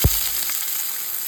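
Chopped onions dropped into hot oil in a kadai for pav bhaji, a brief thump followed by steady, bright sizzling and frying.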